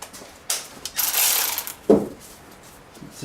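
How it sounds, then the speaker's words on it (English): A ratchet fitted with a 13 mm socket drives new bolts into cylinder heads on an engine, giving quick bursts of loud ratcheting clicks, then a sharp metallic clack and fainter clicks trailing off. "Let's get the ratchet zingy and the 13."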